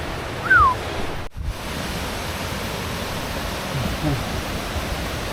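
Rushing water at the fifth tier of a jungle waterfall makes a steady, close broadband roar throughout, with a brief high chirp near the start and a single sharp knock.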